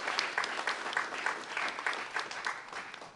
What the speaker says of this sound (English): Let's just give them a big round of applause right off the bat